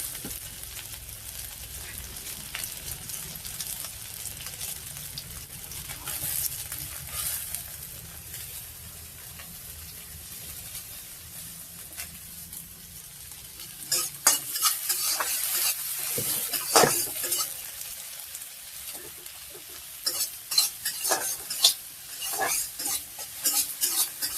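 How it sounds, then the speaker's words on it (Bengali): Flattened rice fries with green chilli and onion in a pan, a steady sizzle with scraping stirs and clinks of utensil against metal, busier and louder scraping bursts toward the end. "চিড়েটাকে একটু ভেজে দিচ্ছি লঙ্কা দিলাম কাঁচা লঙ্কা দিয়েছি আর পেঁয়াজ দিয়েছি"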